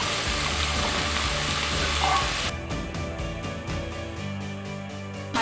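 Cauliflower and potatoes fry in a pan, a steady loud sizzle with stirring scrapes that turns into a softer crackle with a faint rhythmic patter.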